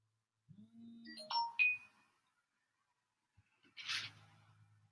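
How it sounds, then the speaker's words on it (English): A phone plays a short text-message notification tone made of a few rising electronic chimes, followed by a brief buzzing vibration. "I'm getting a text message."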